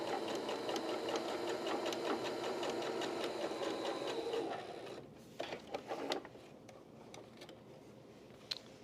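A sewing machine stitches quilt binding with a rapid, even mechanical chatter for several seconds, then stops and gives way to a few fabric handling clicks and rustles.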